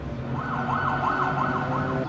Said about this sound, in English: These ambulances are new.